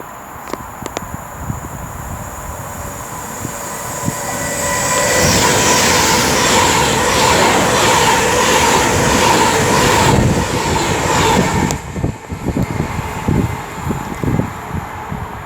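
A Class 390 Pendolino electric train running from Manchester to London passes through Milton Keynes Central on the West Coast Main Line, building to a loud, sustained rush with rhythmic wheel clatter and squeal before fading.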